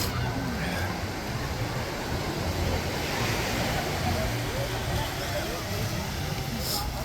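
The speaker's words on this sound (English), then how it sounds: "here we are at Chileno Beach" Steady, loud roar of ocean surf at Chileno Beach, a continuous wash of breaking waves with wind buffeting the microphone throughout.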